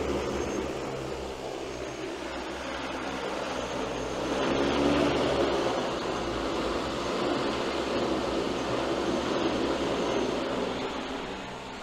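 An Agras T30 spreader drone loaded with about 53 pounds of product lifts off and flies, its propellers giving a steady droning whir that swells louder midway and then holds at a distance, with no talking.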